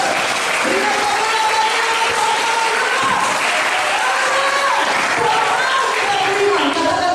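Church congregation applauding during a revival service in Banjarmasin, steady dense clapping throughout with voices and singing-like tones riding over it.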